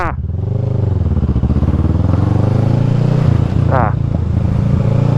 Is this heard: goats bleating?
no